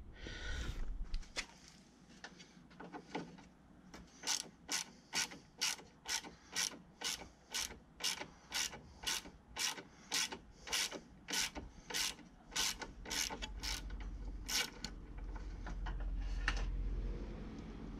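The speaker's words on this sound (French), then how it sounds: "je vais quand même dévisser la deuxième" A screw being undone on a Mercedes C 220 coupé during repair of a water leak: a long series of sharp, regular ratcheting clicks, about two per second, close by and steady, with faint mechanical rubbing underneath.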